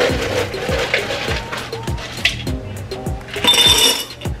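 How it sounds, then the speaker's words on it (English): Ice cubes clinking and tumbling into a glass, several sharp clatters over a steady background beat, close and fairly loud. "Let me get some ice."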